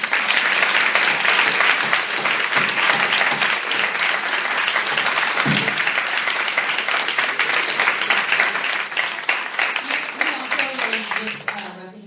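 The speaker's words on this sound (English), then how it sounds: "let's give them a round of applause" A room of people applauding at a live disability-related public meeting, loud sustained clapping that fades out toward the end, with some voices near the close.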